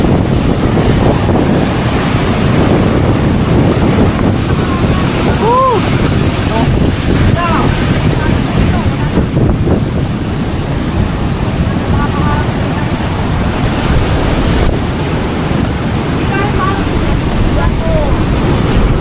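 Large ocean waves pound a shoreline strong enough to wreck houses, in a sustained deep roar with heavy wind noise on the microphone, while people shout and talk over it.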